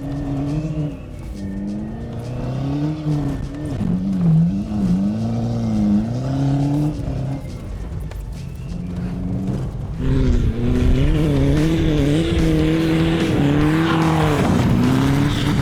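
A BMW 320 with a welded differential and a stack exhaust revs hard and close, its engine note climbing and dipping through repeated throttle blips, then holding a loud, sustained high rev.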